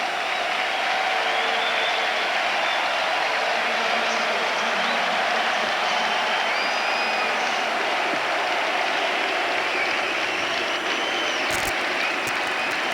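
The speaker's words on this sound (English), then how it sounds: "And listen to how the crowd appreciates it." A large stadium crowd at a 1991 WLAF football game applauds and cheers in a steady, broad roar that holds evenly throughout, distant and washed out.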